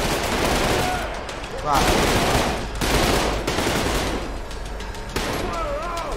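Soldiers in a brutal video game fire guns in loud, rapid bursts and volleys that run continuously, with a voice speaking briefly over the shooting.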